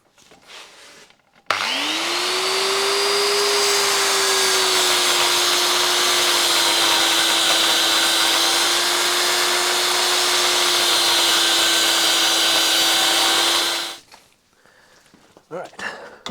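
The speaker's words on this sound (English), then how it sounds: "we're going to put this in the lathe and, well, just see what happens" Metal lathe cutting a thick steel bucket pin from a Ford 555 backhoe, a loud sustained whine and steady machining roar that starts abruptly and runs evenly for about twelve seconds before stopping.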